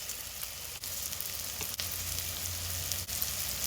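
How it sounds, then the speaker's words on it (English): Onions, green onions and bell pepper sizzling in a frying pan, a soft, even crackle holding steady for a few seconds, broken by a couple of faint ticks, with no voices. "And we're going to let this fry for 5 minutes until they're translucent."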